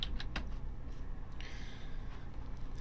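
A few quick computer keyboard key clicks near the start, typing in a web address, then a faint sparse tap or two over a soft room hiss.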